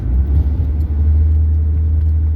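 A 100-horsepower 1997 Saturn SL1 strains uphill under acceleration, its engine a steady, loud low rumble with a constant drone and no voices over it.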